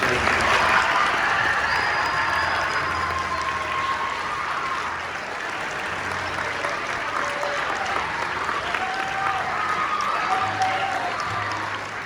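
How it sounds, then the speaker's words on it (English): Sustained applause from a concert audience for a student wind ensemble at a Marywood University senior wind celebration, a dense, steady wash of many hands clapping at fairly close range, with occasional whistles or cheers mixed in. "Let's give them another round of applause"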